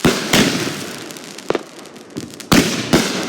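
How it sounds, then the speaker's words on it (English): Fourth of July fireworks in a neighborhood bursting repeatedly, with sharp loud bangs at irregular intervals over a steady crackling hiss, fairly close. "These are my fireworks."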